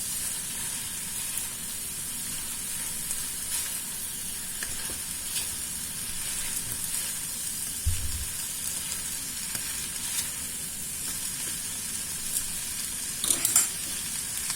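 A chicken wok with noodles and vegetables sizzles steadily in hot oil while being tossed and stirred, a continuous close frying hiss with occasional scrapes and no talking.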